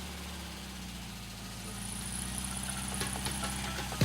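A car engine idling at a low, steady rumble while the vehicle reverses slowly on a game show set, a high faint whine and a few clicks over it, no one speaking.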